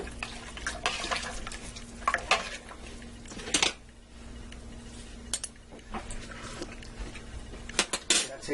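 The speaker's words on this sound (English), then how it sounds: "Give this a stir." A spoon stirs Italian wedding soup with celery and Italian seasoning in a pot, giving several scattered metallic clinks and scrapes against the pot over a steady low hum, with no talking.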